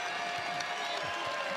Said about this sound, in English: Northwestern fans stand, applaud their team as they should